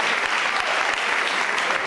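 Theater audience applauding a pasodoble performance: steady, dense clapping from a large crowd, continuous and fairly loud throughout, with no voices standing out.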